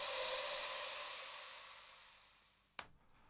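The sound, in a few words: sweep sound effect track in a music mix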